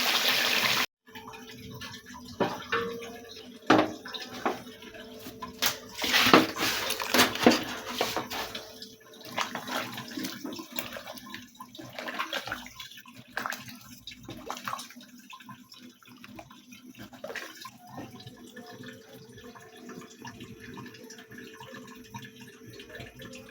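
Onion water poured onto garden plants, with splashing and trickling bursts that come and go over about twenty seconds, fairly faint and with no talking.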